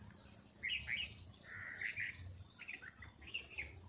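Several birds chirp in bright, scattered bursts in a garden in the early morning, feeding on guavas. The calls come moderately close, overlapping with a soft background hum and no talking.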